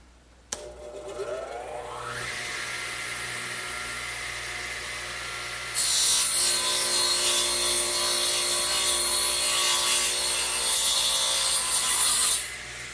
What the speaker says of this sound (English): So I'll just slide it over and run the saw through.